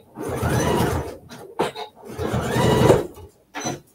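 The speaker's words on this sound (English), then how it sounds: "I'm going to sew down the other side now." A sewing machine stitches down the side of a plastic bag holder in two sustained whirring bursts with short pauses between, close and clear, ending with a brief final run.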